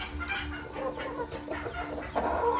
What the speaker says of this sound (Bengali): এটা একটা নতুন ব্রিড এবং কস্টলি ব্রিড অ্যাড করেছি এটা এটাকে বলা হয় সিলভার লেস ওয়াইন্ডট